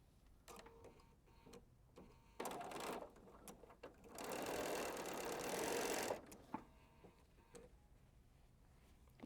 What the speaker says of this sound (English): So I'm going to be stitching down and out that nice 1/4 inch V.